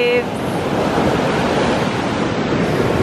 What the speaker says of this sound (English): Sunset, the waves.